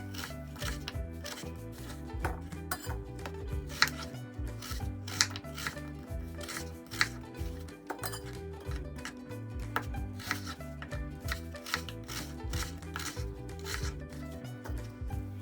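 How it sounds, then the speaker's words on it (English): Apple slices are chopped in half into mouth-sized chunks with a knife on a board, giving quick, close, repeated cuts and taps in a busy rhythm, quiet and with no talking. "I am then just going to chop these slices in half to get mouth-sized chunks"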